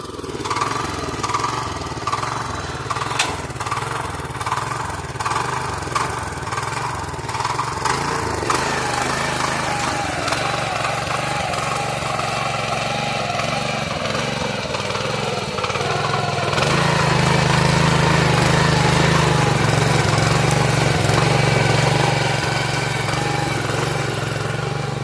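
A tractor ploughs a field in Konkan, its engine droning loudly and continuously up close, with rattling overtones, then pulling into a heavier, deeper labouring tone partway through as the load changes.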